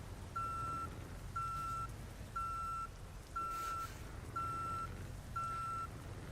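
Reversing alarm of a second-hand Scania truck in a trucking simulator game, six evenly spaced beeps about once per second over a low engine hum.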